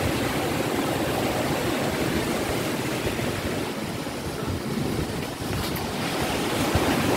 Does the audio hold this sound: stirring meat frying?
no